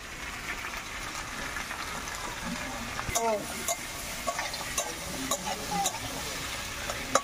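Tilapia fish curry (macher jhol) being stirred in a pan: a low, even sizzle with intermittent spoon scrapes and sharp clicks, fairly quiet and close.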